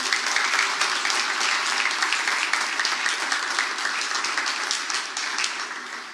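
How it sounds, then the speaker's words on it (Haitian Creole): An assembled crowd applauds at a public address in Haiti, a steady wash of many hands clapping together, fairly loud and even, tapering slightly at the end, with no talk over it. "Je demande à l'assistance et au peuple haïtien qui me regarde là maintenant d'applaudir cette coopération"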